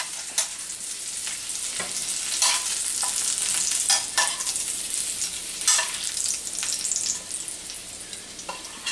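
Garlic frying in butter in a hot pan, a steady close sizzle with frequent sharp pops and spatters scattered throughout, occasional scraping, and no talk.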